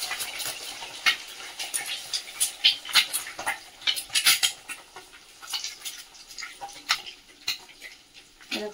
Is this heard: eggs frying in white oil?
yes